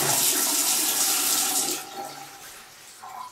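Water gushes loudly from a tap, then drops to a quieter, thinner flow for the rest of the clip, with no voices.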